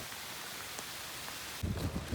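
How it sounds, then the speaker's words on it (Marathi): Heavy rain pours down steadily as a broad, even hiss, swelling louder and deeper toward the end. "पाऊस आता जोरात सुरू झालेला आहे"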